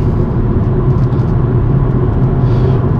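Steady low engine drone from a BMW M135i held on gentle throttle through a series of bends on a Scottish road, a constant loud rumble heard from inside the cabin with no speech.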